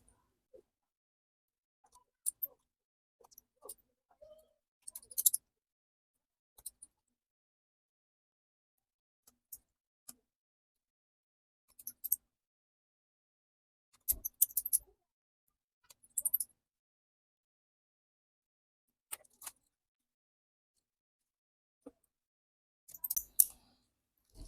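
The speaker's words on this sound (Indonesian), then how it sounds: "Nah, sekarang tinggal pasang bautnya." Small screws fitted into an Infinix Note 40 Pro phone during a screen replacement: sparse, faint, sharp clicks and ticks, close up, arriving singly or in short clusters with long silent gaps between.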